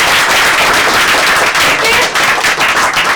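Dense, loud clapping from an audience for a dancer fills the space, a continuous crackling wash of many hands with no pauses, heard alone throughout.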